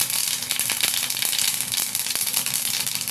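Whole cumin seeds sizzling in hot oil in a pan, a loud, bright, steady crackling hiss with small pops and ticks throughout, heard alone without talk.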